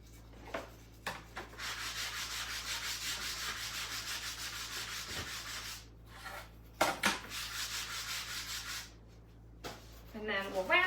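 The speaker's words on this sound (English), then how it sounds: "Now I'm just going to take a 220 grit, go over the top just to smooth her out." Hand sanding with 220-grit paper over a painted wooden door hanger, heard as close, rhythmic scratchy strokes in two long runs broken by short pauses, with a voice speaking briefly near the end.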